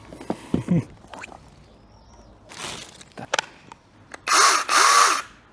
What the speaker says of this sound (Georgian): ეს არის ხელის ელექტროხერხი